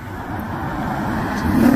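A Porsche accelerating on a downtown St. Louis street, its engine note rising steadily and close by over continuous traffic hum, growing louder toward the end.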